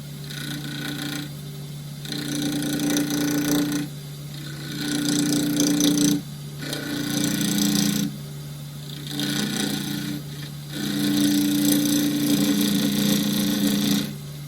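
A 3/8 spindle gouge cuts a small boxwood bowl from scraps on a wood lathe spinning near 2000 rpm, with steady humming motor whine and rasping tool contact in repeated passes of a few seconds each, separated by brief breaks.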